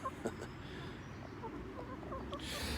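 Free-range chickens cluck softly in a fenced-off garden area, a few scattered short calls at modest distance over rustling outdoor noise.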